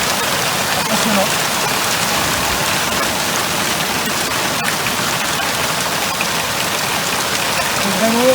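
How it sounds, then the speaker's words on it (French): A hailstorm in the Queyras mountains, heard from shelter as a dense, loud, unbroken roar of stones drumming on surfaces, steady throughout with faint voices briefly underneath. "heureusement, on est hors prise, tempête de grêle. Impressionnant."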